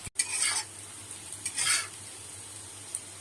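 Onions fry in a pan for a duck egg curry, with two distinct bursts of stirring and scraping over a soft, steady sizzle, close and without voices.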